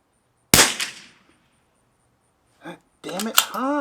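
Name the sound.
Lithgow LA101 rifle shot without suppressor, Eley Tenex ammunition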